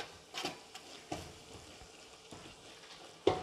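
Fennel seeds and spices dry roast in a pan for prawn biriyani, giving a soft, steady crackle with a few sharper pops and scrapes, faint and close with no talk.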